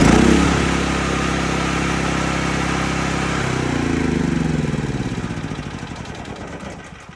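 A Cat RP8000E portable generator runs roughly close by, its steady low engine drone loud and uneven, then sputtering and fading toward the end as it struggles to stay running.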